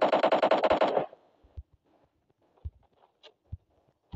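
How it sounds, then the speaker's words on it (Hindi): Rapid automatic gunfire in PUBG gives cover fire, a loud burst of about a dozen close shots lasting a second, followed by scattered faint distant shots and thumps. "ना ना ना ना कवर फायर देते रहो"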